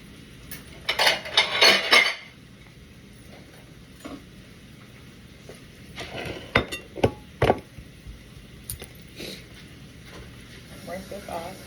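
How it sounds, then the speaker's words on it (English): Kitchen clatter of dishes and utensils, with a bright clinking burst early on and then several sharp knife taps on a board as a cucumber is cut up for a salad, with a voice talking at moments. "I'm gonna cut up a cucumber."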